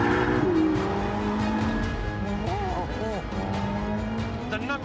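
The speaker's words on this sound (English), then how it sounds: "In hybrid mode, the electric motors are joined by that glorious V8." A hybrid supercar with electric motors and a V8 engine drives on a soaking wet circuit, engine droning steadily with rising and falling revs and a few brief gear-change warbles, while someone talks over it.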